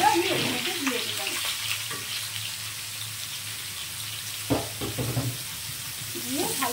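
Mixed vegetables for shukto frying in a pan, a steady crackling sizzle with intermittent stirring scrapes and clinks, close and moderately loud throughout.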